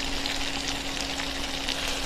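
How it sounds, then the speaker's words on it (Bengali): Beef chaap frying uncovered in ghee and oil in an open pan gives a steady, close sizzle with a dense crackling hiss that holds evenly throughout, with no voices. "এটা ফুল রান্না হয়ে গেছে, তাই আমি খোলা রেখেই ভাজছি, ঢাকার কোনো প্রয়োজন নেই।"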